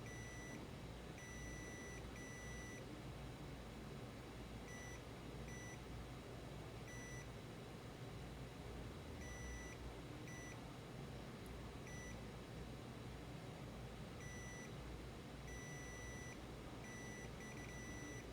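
A multimeter's continuity beeper chirps in short, repeated bursts, some doubled, while a capacitor on a Samsung A30s phone board is probed, set over a steady background hum and hiss with no speech.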